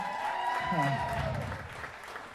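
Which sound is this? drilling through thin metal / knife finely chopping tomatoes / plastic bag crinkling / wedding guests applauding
wedding guests applauding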